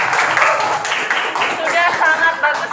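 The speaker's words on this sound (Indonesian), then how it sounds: "Tepuk tangan untuk kita semua." Classroom of high school students clapping together, a continuous patter of many hands that stays fairly loud and steady the whole time, with a teacher's voice talking over it.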